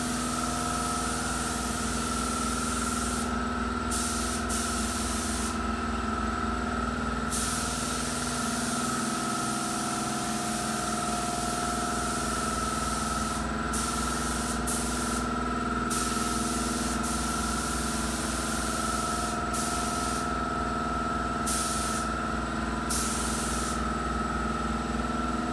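A spray gun painting a car in a garage gives a continuous hissing spray throughout over a steady mechanical hum, with brief gaps where the spraying stops and restarts.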